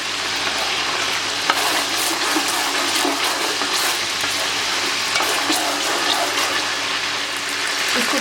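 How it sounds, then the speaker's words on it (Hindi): Cinnamon sticks, cardamom and whole spices sizzle in hot oil in a pan as the base for Sindhi chicken pulao, giving a steady, even frying hiss that runs throughout with no talking. "तो इसको यहाँ पे ज़रा सा हम फ्राई करते हैं 1 से 2 मिनट के लिए।"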